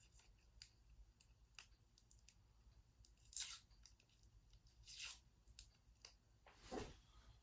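A glued paper wrapper being peeled and torn off a NuPastel pastel stick, close and quiet, with several short scratchy rips and crinkles spaced out over a few seconds against near silence.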